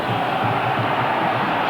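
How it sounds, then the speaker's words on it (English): A steady wash of home crowd noise fills a Bolton football stadium during a 1999–2000 League Cup semi-final against Tranmere, a continuous mid-distance murmur with no single shout standing out. "A few signs that the crowd are becoming impatient, the home crowd, with their team's efforts so far."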